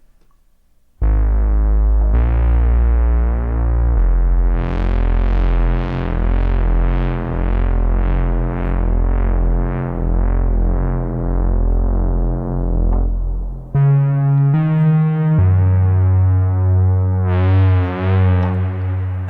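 A sustained Deckard's Dream synthesizer playing chords and a pulsing, swelling melodic line, with a spacious reverb tail washing over the notes; loud and continuous.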